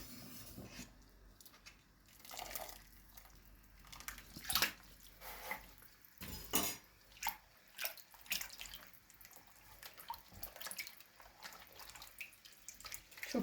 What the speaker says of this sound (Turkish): Şimdi yufkamı sıcak suyun içinden alıp soğuk suya aktarıyorum.